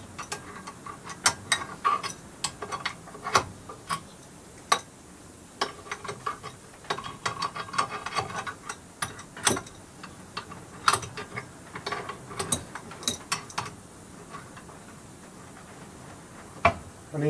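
A spanner tightening a square-headed bolt on a vintage post drill under repair, giving irregular ratcheting clicks and metallic ticks at close range, in clustered bursts with short pauses and no talk.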